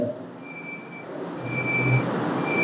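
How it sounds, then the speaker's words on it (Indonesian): An alarm beeps in a steady repeating pattern over a low hum in a quiet room, with no talk. "Masya Allah, sudah alarm."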